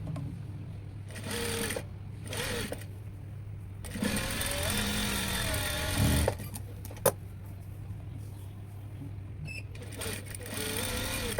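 A sewing machine stitching a princess-cut blouse, whirring in several bursts of differing length separated by short pauses, close and fairly loud, with a few faint clicks.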